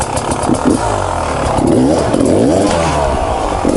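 Enduro trials motorcycle engine revving loudly and continuously up close, with rising and falling pitch and some mechanical clatter, fitted with a gummy tire while riding off wood.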